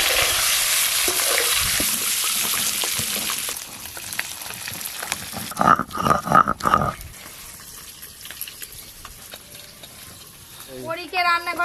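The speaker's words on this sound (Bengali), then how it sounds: "তেল গরম হয়ে গেছে, ডিমগুলো একটু লাল লাল করে ভেজে নেব।" Eggs frying in hot oil in a home kitchen, starting with a loud steady sizzle that drops off, followed by clattering stirring knocks mid-clip and a brief voice near the end.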